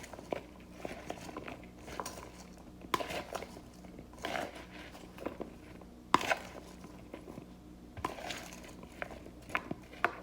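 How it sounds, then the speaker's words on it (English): Seasoned homemade fries are stirred in a bowl to coat them evenly, making soft, irregular scraping and tapping sounds in quick bursts, close up and fairly quiet, with brief louder knocks. "Again, stir to cover all of the fries evenly."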